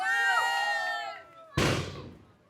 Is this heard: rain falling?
no